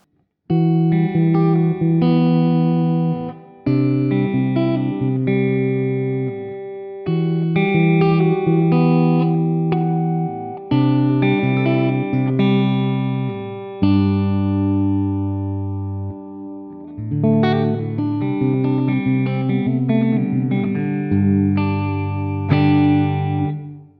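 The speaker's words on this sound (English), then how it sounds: "So this should just sound like a really nice clean amp." Clean electric guitar through a Mesa Boogie Mark IIC+ amp plugin, playing chords and melodic phrases, bright and full, with brief pauses between passages; no voices.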